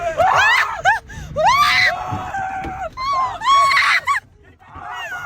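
A person screams repeatedly in loud, rising and falling bursts during a ride in a MK4 Supra, with short gaps between the cries and a quieter, breathy tail at the end.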